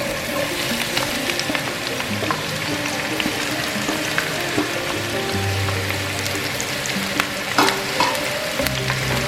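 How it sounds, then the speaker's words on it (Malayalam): Chopped onions sizzle and fry in hot ghee in a pan while being made into mutton rogan josh. A steady, loud crackle runs throughout, broken by occasional stirring scrapes and small pops, with no voices. "അരിഞ്ഞു വെച്ചിരിക്കുന്നത് നമുക്ക് സവാള നന്നായിട്ടൊന്ന് വറുത്ത് വരണം."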